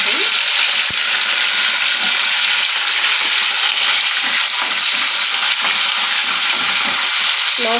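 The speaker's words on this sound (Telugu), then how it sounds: "మినప్పప్పు పచ్చిమిరపప్పు జీలకర్ర ఆవాలు ఇవన్నీ వేసేసి ఆయిల్లో బాగా ఫ్రై చేసుకోవాలి" Urad dal, green chillies, cumin and mustard seeds frying in hot oil for mango carrot pulihora, a loud, dense, continuous crackling sizzle close by with no voices.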